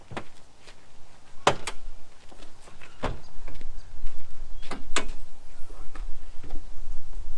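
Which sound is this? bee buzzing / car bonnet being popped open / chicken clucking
car bonnet being popped open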